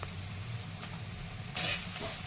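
Cumin and mustard seeds sizzle in very hot oil for a dry potato dish, making a steady close frying hiss with small pops and a brief louder spurt near the end.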